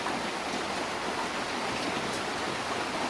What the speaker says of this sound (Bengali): পুরা ঝমঝম করে বৃষ্টি হচ্ছে